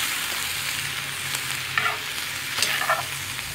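Vegetables sizzling steadily in a cast iron pan over medium heat, a continuous close frying hiss with a few soft stirring scrapes and clatters, no talking.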